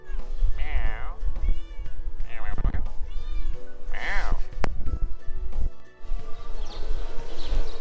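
A cat in the courtyard of the Umayyad Mosque in Damascus gives several drawn-out meows in succession, close and clear, with a person talking around the calls.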